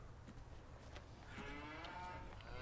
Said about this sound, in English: Oh, look at the little baby cows.